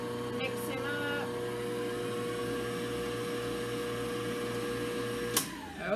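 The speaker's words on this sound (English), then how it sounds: "Seems kind of a shame to get the mixer out for no more than I'm using it" An electric mixer beats double chocolate cake batter with a steady, close whirring drone that holds for about five seconds, then a brief clatter as it stops.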